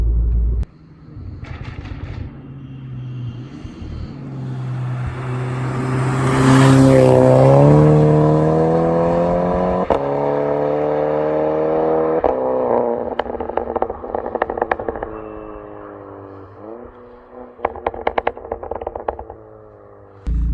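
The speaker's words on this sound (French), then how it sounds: "des retours de pot d'échappement qui sont absolument incroyables" A tuned Stage 2+ Golf 6 R engine revs hard, its pitch climbing and falling through several loud pulls, with sharp crackling exhaust pops from a Pro Weld exhaust line bursting near the end.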